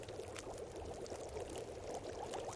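In The Long Dark, snow melts into water over a fire as a steady, liquid pouring and trickling rush, constant and fairly close, with no voices.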